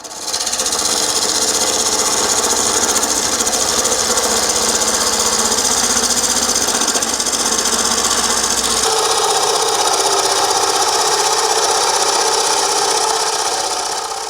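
A wood lathe turning a tall, thin natural edge bowl, a loud, continuous whirring drone with the tool cutting steadily throughout, shifting slightly in tone partway through, with no speech.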